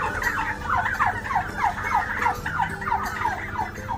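Farm turkeys at a village poultry yard gobble in a rapid, repeated warbling burst. The calls are close and fairly loud over a low background, with no talking.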